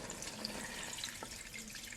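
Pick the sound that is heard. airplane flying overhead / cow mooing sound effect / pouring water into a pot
pouring water into a pot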